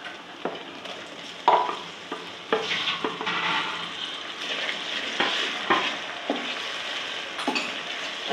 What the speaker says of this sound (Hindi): अच्छी तरह भून लूँ टमाटर और प्याज़ों को मैं